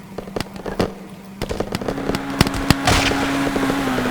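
Gunfire in a FiveM roleplay video game, several sharp sudden cracks scattered over a steady engine-like drone, loud and close.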